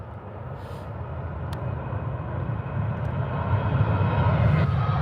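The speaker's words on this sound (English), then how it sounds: "Just 737 from Jet 2 heading off." A Jet2 Boeing 737 airliner taking off at Birmingham airport, a heavy, broad engine roar that grows steadily louder over several seconds, heard from the airfield edge.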